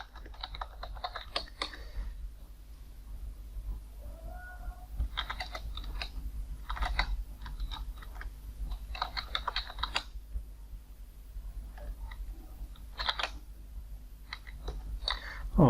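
Keys clatter on a computer keyboard as a terminal command is typed on an Ubuntu machine, quick bursts of close, crisp tapping separated by short pauses, repeated several times over a quiet room hum.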